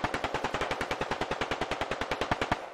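Sustained automatic gunfire in the video game Squad, a rapid, steady burst of about twenty evenly spaced shots, loud and close, with no talk over it.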